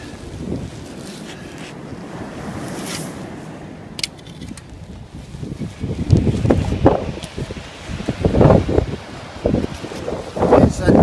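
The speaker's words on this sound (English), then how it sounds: "it's a bit windy, but it is the beach" Wind blows across Falmouth beach, buffeting the microphone with a constant rushing roar that swells into stronger, gusty bursts in the second half, with surf noise underneath.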